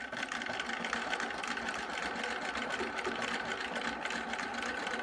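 A Husqvarna computerized sewing machine runs steadily at an even speed, its needle mechanism producing a continuous close mechanical whirr and rapid stitching rattle with no talking.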